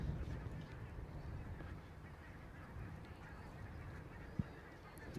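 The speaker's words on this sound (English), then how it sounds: "You can hear the birds again. That's the geese, I think." Geese calling from a field beside a cricket ground, faint, scattered honks in the distance over steady outdoor background noise, with no talking.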